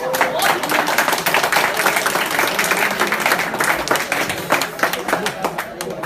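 An audience clapping steadily in a hall during a health talk, a dense, continuous patter of many hands that stays loud and even throughout, with a murmur of voices mixed underneath.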